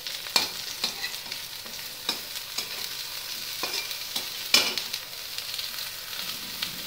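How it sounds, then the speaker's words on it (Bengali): Salted eggplant slices sizzle softly in hot oil, a constant fry broken by several sharp spatula taps and scrapes at irregular intervals, with no voices. "নুন দিয়ে বেগুনটাকে ভাজবো"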